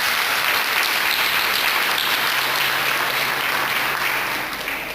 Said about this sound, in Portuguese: Eu convido você a aplaudir esta palavra de salvação.